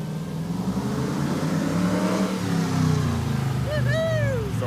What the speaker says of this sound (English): we'll probably go blast it up and down the street before we put it all back together to find out